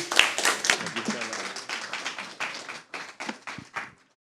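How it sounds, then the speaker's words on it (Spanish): Audience applause for a speaker at a university communication event, a burst of clapping that thins out and fades to silence within a few seconds, with some voices mixed in. "un fuerte aplauso para Martín"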